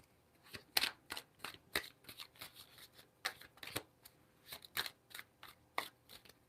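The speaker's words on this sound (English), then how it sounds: "Well, I was shuffling cards for you." Tarot cards being shuffled by hand in a series of crisp, close riffling bursts repeating at a steady, irregular rhythm, with quiet pauses between each shuffle.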